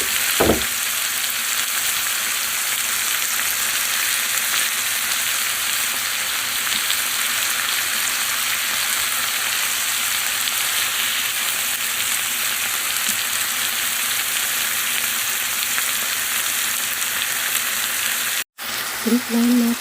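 Cabbage and carrot fry in a pan for pancit, giving a steady, loud close-up sizzle with faint stirring scrapes throughout, and a brief break near the end.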